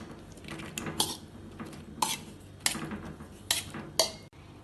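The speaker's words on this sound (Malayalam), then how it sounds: "ഇത് വേവിച്ചെടുക്കാൻ വേണ്ടി അടുപ്പത്ത് ഒരു ചട്ടിയിലേക്ക് ഇടാം." Pieces of half a medium pineapple drop into a pan set on the stove for a curry, giving a series of close clattering knocks and clinks at irregular intervals over a soft background hiss.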